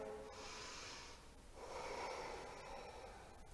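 Slow, deep breaths drawn in and released during a standing warrior pose in a strength-building vinyasa yoga flow, two soft airy breath sounds close to the listener with no talking.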